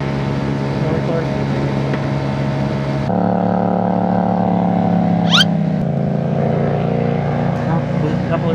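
A scooter engine, an upgraded Honda Giorno with a bigger-displacement motor, drones steadily at full throttle on a downhill ride, its loud continuous hum shifting pitch midway, with wind noise throughout.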